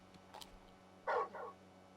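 A large dog in the video game Final Fantasy XVI gives two quick barks, a faint yip followed by a louder, nearer bark over a quiet low hum.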